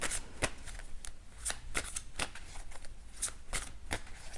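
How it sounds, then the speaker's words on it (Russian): Cards from a tarot deck being handled and drawn, giving a quick series of crisp flicks and snaps at an uneven rhythm, close by and with no voice. "И одну карту, как совет, я хочу достать козерогам из колоды."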